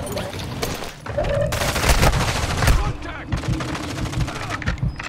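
Heavy gunfire in Warzone 2.0, rapid automatic bursts and overlapping volleys that come close and loud, with players talking excitedly over the shooting.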